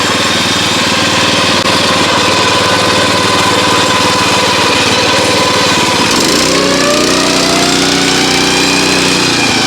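A WEIMA WM900M-3 walk-behind tractor with a rotary mower drones loud and close, its engine note shifting to a changed pitch about two-thirds through as the revs change.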